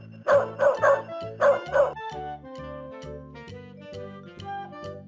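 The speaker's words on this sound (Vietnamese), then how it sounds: "Con chó." A dog barks five times in quick, loud pairs and triplets, followed by a bright, steady melody that carries on alone.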